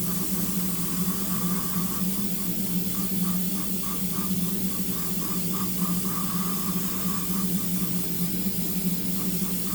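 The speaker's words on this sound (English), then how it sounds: "Spraying this also at 20 psi." An airbrush sprays Green Stuff World Chrome Metal airbrush paint at 20 psi, giving a steady, close hiss of air and atomized paint that runs unbroken from start to finish.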